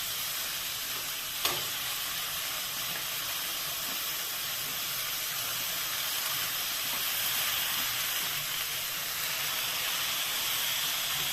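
Red amaranth greens frying with onions in a pan, giving a continuous even sizzle and hiss with one sharp click early on and no voices.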